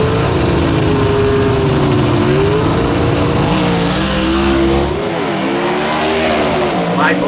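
Gasser drag race cars roaring down a dragway track, loud engine drone with shifting pitch as they accelerate past, heard under a commentator's talk.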